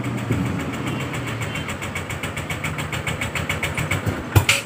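A Honda Vario 125 fi scooter engine is cranked cold with the starter and struggles to fire, giving a steady rhythmic chugging close by that ends in a sharp click and a brief rattle.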